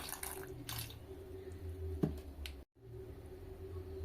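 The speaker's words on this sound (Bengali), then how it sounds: "অল্প পানি দিয়ে দিচ্ছি।" Water is poured in a small amount into a pressure cooker holding lentils, peas and salt, giving a soft, low trickle and faint splash close by, with a brief drop-out near the end.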